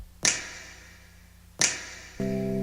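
Two crisp finger snaps, spaced well apart, each ringing out in a long reverb tail before a soft synth tone enters.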